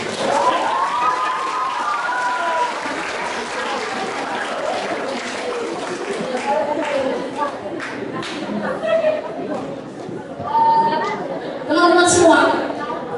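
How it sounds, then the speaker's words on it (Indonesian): Audience applause at a presentation on a traditional wedding ritual, a steady wash of clapping and crowd chatter running throughout, with a voice speaking over it near the end. "Tepuk tangan dulu untuk kami."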